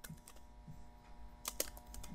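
Light keystrokes on a computer keyboard, a handful of soft clicks spread unevenly with a brief burst near the end, close and quiet with no speech.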